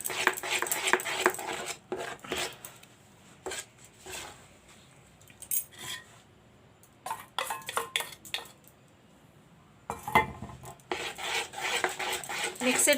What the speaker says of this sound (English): now I'll mix the batter with it nicely